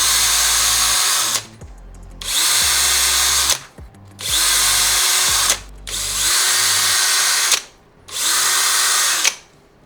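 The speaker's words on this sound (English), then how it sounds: "I might use a drill real quick because these holes are just way too small" A power drill enlarges small screw holes while a Voron 2.4R2 3D printer is being assembled, running loud and close in five whirring bursts, each a couple of seconds long, separated by short stops.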